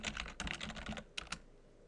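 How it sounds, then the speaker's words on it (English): Quick bursts of keystrokes on a computer keyboard, close and clear, a rapid run of clicks, a short pause, then a few final taps before quiet. "We'll type the same command."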